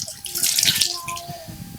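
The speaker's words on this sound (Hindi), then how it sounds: "ये अब खंगाल दीजिए।" Clothes rinsed by hand in a tub of water, with close sloshing and splashing, gurgles and drips over a short stretch, loud and near.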